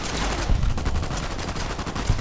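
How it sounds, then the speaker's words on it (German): Sustained automatic gunfire in Fallout New Vegas as half a magazine is emptied, a dense continuous rattle of rapid shots with heavy low thumps, loud and close. "Ja, und er setzt einfach das halbe Magazin in den"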